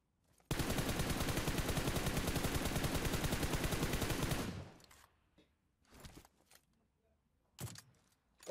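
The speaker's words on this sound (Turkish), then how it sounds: "Silah sesi var." Rapid, sustained automatic gunfire in PUBG Mobile rattles for about four seconds, then fades, followed by a few scattered quieter bursts and clicks.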